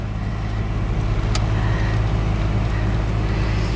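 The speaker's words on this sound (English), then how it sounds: "There's a lot of traffic, people." Road traffic heard from inside a moving car, a constant low rumble and road roar with a brief sharp tick partway through.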